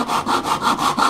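A hand saw rasps through bamboo in quick, even back-and-forth strokes, about five rough pulls close by, with no voices.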